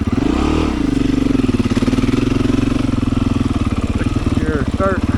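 Up close, a Beta 500 dirt motorcycle engine throbs with a loud, steady pulsing drone, a quick rev near the start and then a sustained rumble, with a voice briefly audible near the end.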